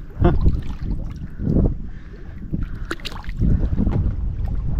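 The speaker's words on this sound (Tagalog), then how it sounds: "nandyan na yung bangka na magsusundo sa amin" A boat engine rumbles nearby under gusty wind buffeting the microphone, with water sloshing around it, as a fishing pickup boat approaches.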